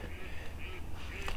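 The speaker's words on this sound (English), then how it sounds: "You can hear the ducks perhaps in the background" Ducks on Amberley Brooks, a wide flat wetland expanse, giving a few quick nasal quacks and honks in a brief distant burst.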